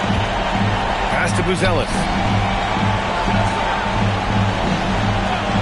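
Home crowd noise roars steadily at a basketball game in NBA 2K26, a constant loud wash of cheering beneath a commentator's continuous play-by-play.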